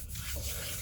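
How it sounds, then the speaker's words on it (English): Wooden turned piece with pine cones embedded in it being sanded, a steady close rubbing hiss that runs without a break through the short moment, with no talking. "I'm going to go ahead and start sanding this"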